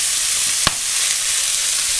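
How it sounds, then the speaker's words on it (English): Lamb mince frying in oil in a pan for moussaka gives a steady, close broadband sizzle throughout, with one sharp clack partway through, likely from a utensil hitting the pan. "I've just put a little bit more oil in there, and I'm just adding the mince"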